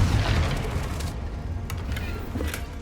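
A Confringo explosive spell in Hogwarts Legacy bursts with a loud booming blast at the start, then a rumbling tail with a few sharp crackles, no talk.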